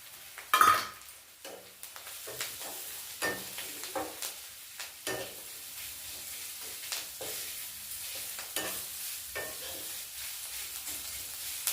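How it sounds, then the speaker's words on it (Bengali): Grated potato frying in a pan, a soft steady sizzle broken by repeated scraping strokes of a spoon or spatula stirring, with one sharp clack near the start; no voices. "এতে একটা ছোট আলু গ্রেট করা, এটা দিয়ে দিচ্ছি।"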